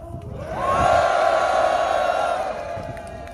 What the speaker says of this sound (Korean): 힘찬 함성으로 말씀 전해 듣도록 하겠습니다